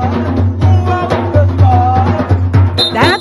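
A junior Junkanoo band from North Caicos plays dense, loud festival music with pounding low drums in a steady beat, brass-like tones on top and bright whistle-like accents near the end, with no talking.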